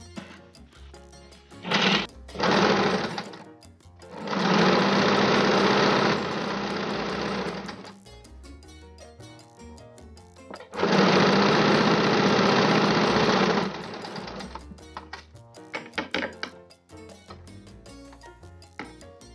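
A home sewing machine stitches and alters clothing in two long, loud, steady runs, with short quick bursts and mechanical clatter before and after.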